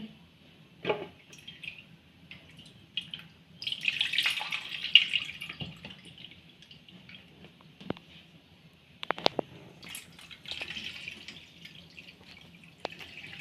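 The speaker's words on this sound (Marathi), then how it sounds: "तर बघा ह्यातलं पाणी असं ओतून काढायचं" Liquid drains from a mango pickle mixture, with scattered drips, splashes and squishy trickles coming and going up close over a quiet background.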